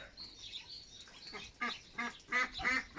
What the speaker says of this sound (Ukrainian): Вона як ото бігунок якась качка така. От чого ти від них відділилася і ходиш, кричиш.